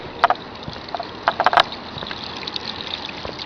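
Water flows out of a tube on a hurricane tarp installation across an acre, a soft continuous outdoor trickle and gush with a few sharp splashy bursts near the start.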